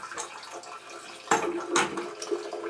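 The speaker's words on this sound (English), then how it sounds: "it'll allow air to flow in, and it'll help the water heater drain faster." Water draining out of an electric water heater during removal, a steady close gurgling and splashing flow with surging bursts partway through.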